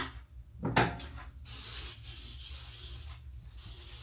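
A can of Lysol disinfectant hisses out a steady spray for a couple of seconds after some rubbing and a cupboard-like knock, close and moderately loud, with no one speaking.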